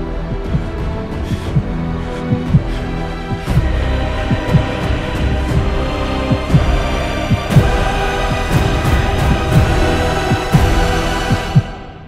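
Rhythmic heartbeat pulse sound effect, regular low thumps repeating steadily and loudly throughout, layered over a dense droning music bed with no talk.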